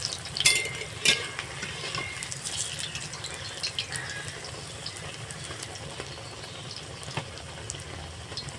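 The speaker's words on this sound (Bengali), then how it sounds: "আমি এইভাবে ভেজে নেব" Onion fritters (piyaji) fry in hot oil, giving a continuous hiss and crackle with a couple of sharp utensil clinks near the start and occasional light taps later.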